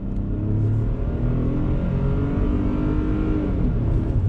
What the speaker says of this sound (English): Let's go on throttle in our 3-cylinder EcoBoost engine.